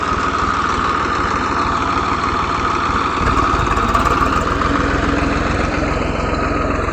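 A tractor engine runs steadily while plowing a castor field in a Gujarati village, a loud, continuous low rumble and idle-like drone with a slight shift in tone partway through.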